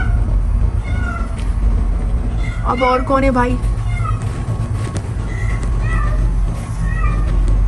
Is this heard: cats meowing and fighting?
yes